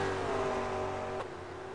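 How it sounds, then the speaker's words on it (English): Race cars in a racing video game lap Interlagos, Brazil, a steady mid-pitched engine drone that drops abruptly near the end as the car changes gear or backs off, with no voices. "with Christopher Osborne just passing, looks like one of the McLarens now."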